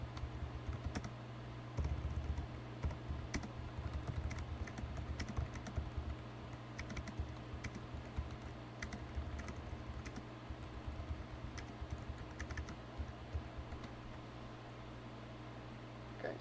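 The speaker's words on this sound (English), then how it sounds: "You can type whatever you want." Steady typing on a computer keyboard, a continuous run of soft, close key clicks at low level with brief bursts and pauses, heard alone without talk.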